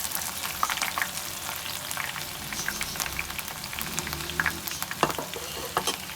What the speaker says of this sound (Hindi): जो तेल बचा था इसमें हम देखें प्याज डाल देंगे, जीरा